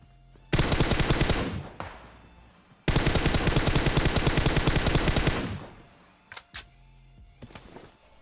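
Automatic gunfire in the mobile battle royale game PUBG Mobile, two long loud sustained bursts of rapid shots separated by a short pause, followed by a few isolated trailing shots.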